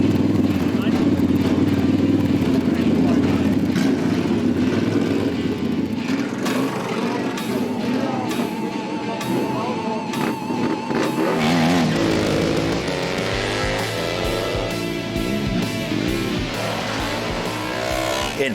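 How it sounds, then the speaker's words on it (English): Motorcycles racing head to head on the sprint track at the Glemseck 101 bike festival, engines roaring loud and continuous with revving passes, under crowd and announcer talk. "the motorcycles are not just static, but that they ride on the track, that they ride against each other"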